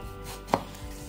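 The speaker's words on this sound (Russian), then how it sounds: "нарезаю помидорки кружочками" A kitchen knife cutting tomatoes into rounds on a board makes a single crisp, close chop midway through an otherwise quiet moment.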